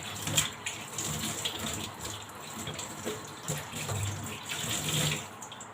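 Tap water runs steadily into a kitchen sink while a cloth is rinsed and wrung, a continuous close splashing stream with shifting gurgles and no voices.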